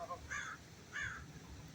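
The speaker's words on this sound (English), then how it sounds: "Crows and ravens, oh yeah, they're native here." Crows cawing, two short harsh calls about a second apart, moderately near over a low background rumble.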